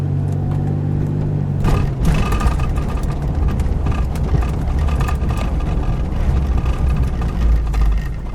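A 2001 Ford Explorer Sport with 333,333 miles on its original engine and transmission, driving into town: continuous close engine drone and road rumble, steady and loud throughout.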